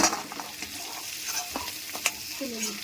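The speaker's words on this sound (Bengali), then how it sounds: "বাগদা চিংড়িগুলো আমার ভাজা হয়ে গেছে," Bagda prawns fry in mustard oil in a kadai, giving a close, steady sizzle with light scraping and stirring taps throughout.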